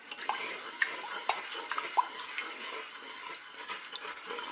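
Strawberry soy panna cotta mixture with agar-agar stirred in a Cookeo multicooker, soft scraping and light clinks of a utensil against the pot, close and quiet, no talking.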